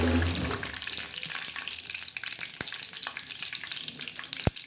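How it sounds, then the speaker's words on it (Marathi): Curry leaves crackle and sizzle in hot oil for a vegetable dish with green chillies and peanuts, a steady close-up frying hiss with a few sharp pops near the end and no talking. "मस्तपैकी सडसड कढीपत्ता वाजत आहे"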